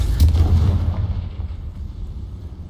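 A Confringo fire spell from Hogwarts Legacy goes off as one loud, deep blast, then a rumbling tail fades over a couple of seconds.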